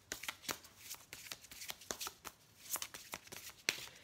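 Tarot cards shuffled by hand in a quiet room, a run of soft, crisp riffling bursts in an irregular rhythm, close and faint, with no one speaking.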